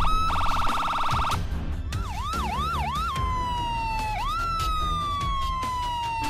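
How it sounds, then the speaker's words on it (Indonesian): Ambulance siren wailing loudly and clearly, switching from a rapid electronic yelp to rising and falling whoops and then a long, steady descending tone, with no other sound competing. "Suara ambulannya keras banget, tapi ambulannya nggak ada guys."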